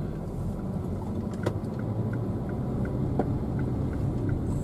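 A car drives toward the city outskirts, a steady low road rumble and engine hum heard from inside the cabin, with faint clicks and no talking.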